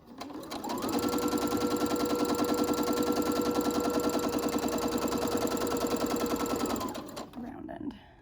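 Sewing machine stitching fabric for a homemade medical mask, a steady rapid needle chatter running loud and close for several seconds before stopping, with a brief backstitch burst at the end and quiet talk nearby.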